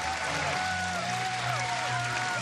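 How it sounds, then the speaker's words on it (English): A basketball arena crowd at an Oklahoma at Northwestern game rises to its feet with a steady, loud roar of cheering and applause that holds for the whole stretch. "This crowd coming to its feet"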